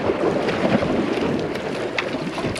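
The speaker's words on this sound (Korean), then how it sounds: "오후 들어가면서 바람도 조금 거세지고 파도도 치기 시작을 했고요." Strong wind and choppy waves surround a fishing boat casting at sea near Sasudo island, making a steady, loud rush of broadband noise with wind buffeting the microphone throughout and no voices.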